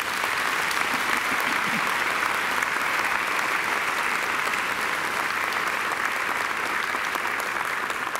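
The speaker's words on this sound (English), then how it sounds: "I think she deserves another great round of applause" Audience at a university graduation ceremony applauding, a dense, steady roar of clapping from many hands that holds evenly throughout.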